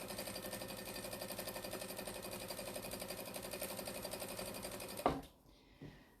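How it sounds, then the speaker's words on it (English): A sewing machine stitching a jelly roll strip tote bag runs at a steady, even pace close by, then stops abruptly near the end, followed by a brief clunk. "I'm just stitching along nicely."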